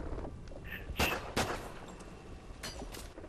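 Gunfire in the video game Call of Duty Ghosts: two sharp shots near 1.0 and 1.4 seconds, then a couple of fainter shots near the end, over steady in-game background noise.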